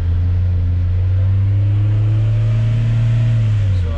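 A Nissan X-Trail engine runs with the accelerator floored, but a faulty accelerator pedal position sensor holds it at about 2000 RPM in low-power mode. It gives a loud, steady, close drone that neither climbs nor falls, with no talking.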